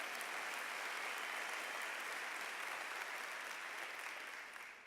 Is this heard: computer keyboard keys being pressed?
no